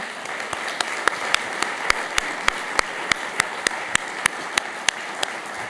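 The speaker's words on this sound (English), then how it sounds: "I think that's worthy of applause" A crowd at a university faculty gala honoring award-winning professors applauds, many hands blending into a steady wash with some sharp, individual claps popping out at a regular beat near the microphone.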